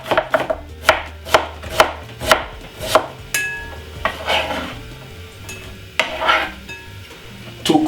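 Spring onion and a piece of white onion are finely chopped with a knife on a board, giving a quick regular series of sharp knocks, then looser, irregular cuts with soft scraping.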